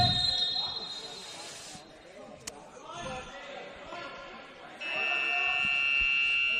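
A loud electronic buzzer sounds steadily near the end, following bouncing and echoing voices in a large indoor futsal venue during a semi-final match.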